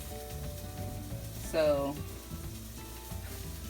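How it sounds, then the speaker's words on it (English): Eggplant slices frying in a pan give a soft, steady sizzle under a tonal background, with a brief brighter burst near the middle and a single spoken word. "I need to go focus on these eggplants that are frying"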